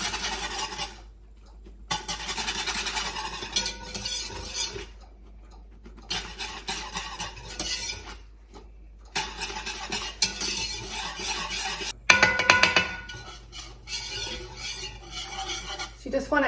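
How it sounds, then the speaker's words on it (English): Flour being whisked into chicken pot pie filling in a pot, giving a steady scraping, swirling stir in bursts with short pauses, close and fairly loud, ending in a sharper clatter. "so I'm gonna add half a cup of flour and just whisk it in"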